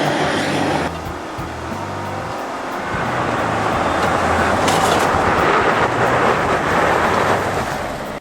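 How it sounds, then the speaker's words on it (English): A Jeep Wrangler with a 2-liter turbo engine launches from a standstill in a 0 to 60 run, with droning engine tones giving way to loud, steady road and wind roar from inside the cabin. "Jeep Wrangler 2-liter turbo, 0 to 60"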